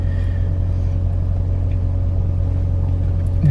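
The engine of a 1989 Chrysler TC by Maserati with 13,000 miles idles evenly after a cold start. A steady low rumble with a constant hum, heard up close.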